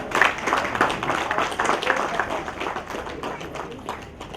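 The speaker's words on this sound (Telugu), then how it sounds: "ఇప్పుడు గట్టిగా చప్పట్లు కొట్టగలగాలి చూడండి" An audience claps at a National Senior Citizens Day celebration held by the Elders Clubs International Foundation, a dense steady patter of many hands that is loud at first and eases slightly over a few seconds.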